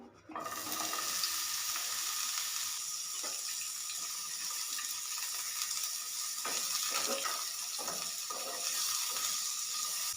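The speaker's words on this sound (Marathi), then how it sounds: "ह्याच पॅनमध्ये आपल्याला टोमॅटो कच्चे टोमॅटो भाजून घ्यायचे" Raw green tomatoes dry-roasting in a pan, a steady close sizzling hiss that continues throughout, broken by a few soft scrapes and knocks as they are moved about.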